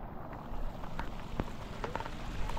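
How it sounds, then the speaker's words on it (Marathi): Heavy, continuous monsoon rain in Konkan paddy fields during rice transplanting, a dense steady hiss of falling drops with occasional sharper splashes, fairly close and without talk. "पाऊस खूप चालू आहे कंटिन्यू दिवसभर"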